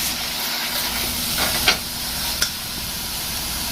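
Dry ingredients toasting in a hot pan without water for a beef and broccoli stir-fry give a steady, close hiss and sizzle, broken by two brief light clicks of stirring; no one speaks.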